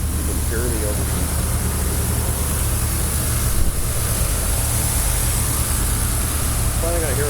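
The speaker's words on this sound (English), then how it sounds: "If you have your AC, put that on full, so that one is blowing hard" The air conditioning fan of a 1987–91 Chevrolet Suburban blows on full with the engine running, a loud, steady broadband rush that fills the whole clip. Someone speaks briefly over it.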